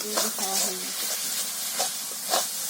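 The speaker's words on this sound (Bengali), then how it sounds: "মশলাগুলো ভালো করে নেড়ে চেড়ে কষিয়ে নিচ্ছে" Turmeric, salt and chili spices frying in a pan for beef curry, a soft steady sizzle and hiss with a few scraping stirs, under a short stretch of talk near the start.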